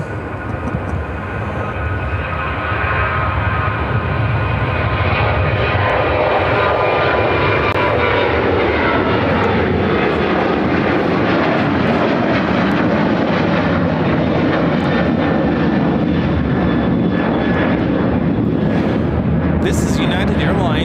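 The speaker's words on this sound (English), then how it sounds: "This is United Airlines 2389 taking off to Fort Myers on the 737-800" A United Airlines Boeing 737-800 takes off from Chicago O'Hare, its jet engine roar building quickly and holding loud and steady, with a sharp broadband rumble throughout; people talk over it.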